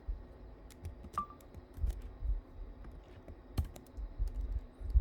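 Ctrl+Enter is typed on a computer keyboard, a handful of quiet, crisp key clicks scattered through a still room, with no talking.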